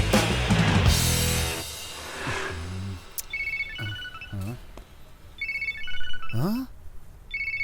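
A phone ringtone plays in a dubbed South Indian film scene, repeated electronic tones in short melodic bursts over several seconds, mixed with background sound effects.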